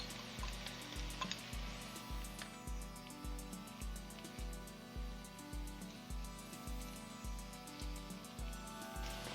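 Chili powder sizzling in a hot pan over a medium-high burner, a steady crackling fry accompanied by regular scraping strokes, close and moderately loud with no talking.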